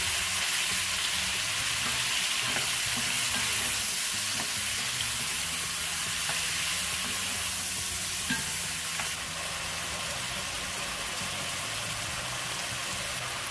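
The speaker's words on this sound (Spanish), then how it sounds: "vamos a agregar lo que es nuestro jitomate picado, el chile jalapeño, los ajos y la cebolla. Y vamos a freír esto por 1 minuto" Chopped tomato, jalapeño, garlic and onion frying in a pan, a steady dense sizzle with faint scraping and stirring clicks throughout, no voices.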